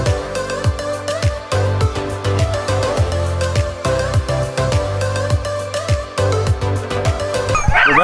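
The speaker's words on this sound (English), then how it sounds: "So yeah, we're about to ride a dog sled." Sled dogs bark and yip loudly and repeatedly just before a dog sled ride, in a rapid, overlapping chorus with excited whimpers, continuing throughout without a break.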